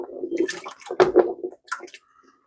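Onion, carrots, green pepper and mushrooms with some liquid tip into a cooking pot for pulled beef, a short close run of wet plops, splashes and squishes fading to quiet.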